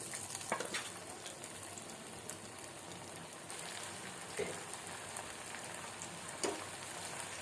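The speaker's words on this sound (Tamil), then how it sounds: "எண்ணெய் நல்லா சூடாயிருச்சு. இப்போ வந்துட்டு நம்ம மீன் மேக்கரை ஒவ்வொன்றா போட்டு எடுத்துப்போம்." Steady crackling sizzle of soya chunks frying in hot oil, with a few sharper pops and spatters rising above the continuous hiss.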